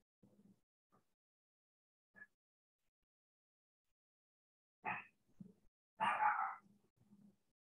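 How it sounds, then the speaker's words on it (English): A Chihuahua puppy yips and barks in short, sparse bursts, faint and distant in an otherwise quiet room, with a louder cluster of small barks near the end. "you're including the background joyful sounds of Chihuahua puppy in the background"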